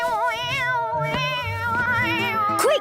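A cartoon cat in the Postman Pat animated series meows near the end, a short rising-falling call over a steady musical score that plays throughout.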